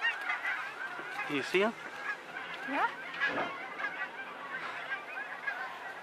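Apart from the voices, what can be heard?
ducks calling outside the Gaylord Rockies hotel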